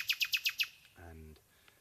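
Nightingale in England singing a quick series of five bright repeated chirps, then a short lower buzzy phrase, faint and close-miked against quiet background.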